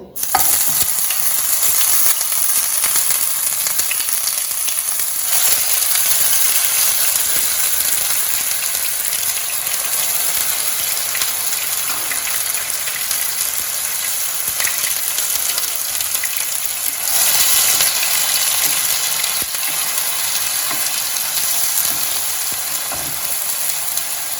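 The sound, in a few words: onion paste frying in hot oil with whole garam masala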